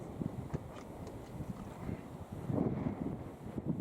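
Wind gusting across the microphone at an outdoor shooting range, low rumbling buffets that swell and ease, close and fairly loud, with no voices.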